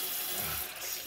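Water runs steadily from a tap during face washing at a bathroom sink, a close, continuous rushing splash with no voices.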